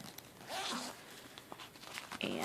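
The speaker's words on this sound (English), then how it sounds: "And then it has a zipper." A zipper on a pencil case is opened and closed in several quick, rasping pulls, close and fairly loud, with brief pauses between the strokes and no voices.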